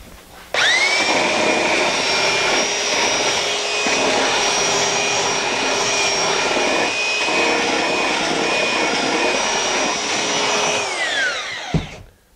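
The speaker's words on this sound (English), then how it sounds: "put this in the device and using a belt sander" A belt sander grinding down the sharp edge of a plastic piece, a loud steady high whine starting abruptly and holding for about ten seconds before spinning down, no voices.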